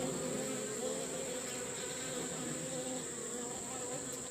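Honeybees buzzing around an open hive, a dense, steady drone that holds loud and close without a break.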